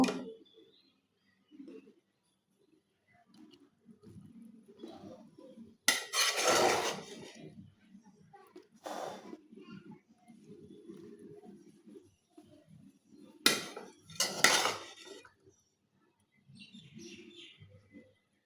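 Cooked lunch is served from a pot onto plates: a few sharp scraping and clinking bursts of a spoon on metal, spaced apart over quiet background with faint bird chirps.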